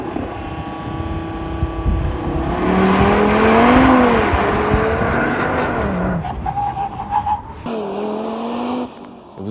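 A 2022 Audi RS3 drifting, its engine revving and rising and falling in pitch, with tire squeal and skidding; loud and close, with a gear change and a drop in revs near the end, no voices.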